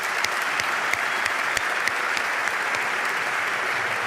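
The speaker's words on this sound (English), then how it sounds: "Big round of applause to all of those." A crowd at a political rally breaks into steady, dense applause, many hands clapping together at an even level for the whole stretch with no voices standing out.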